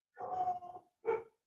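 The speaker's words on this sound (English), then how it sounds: "J-Vi shows up and the dogs start barking." Two sharp dog barks close by, a longer bark followed by a short second one, with no talk over them.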